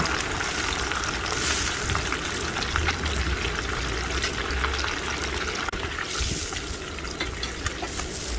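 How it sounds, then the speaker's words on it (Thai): Squid frying in a pan of hot oil gives a steady, dense crackling sizzle that holds at an even level throughout, close and continuous with no talking. "ทอดปลาหมึกไปเรื่อยๆนะคะ จนจบเสร็จเรียบร้อย"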